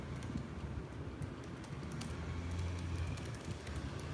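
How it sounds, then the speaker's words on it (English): Fingers tap quickly on a computer keyboard, producing a fairly faint stream of irregular light clicks over a low background rumble, with no talking. "I'm just typing a little message to the people on my channel real quick."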